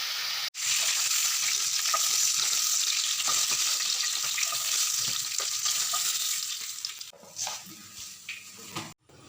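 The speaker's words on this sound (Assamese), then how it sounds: "মাছখিনি এটা চাইডৰ পৰা ফ্ৰাই হৈ গৈছে" Fish frying in oil in a pan for an Assamese fish recipe, a strong continuous sizzling hiss up close that fades toward the end, broken by a few clicks and handling knocks.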